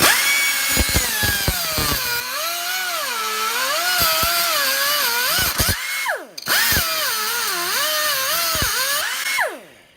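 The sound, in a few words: cut-off wheel cutting aluminum motorcycle lever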